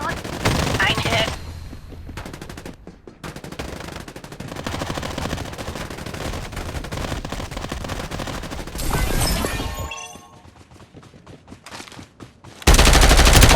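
Rapid automatic gunfire and bursts of shots from the battle royale video game Farlight84, loud and close, with brief pauses, a quieter stretch and a final heavy blast; some voice lines mixed in.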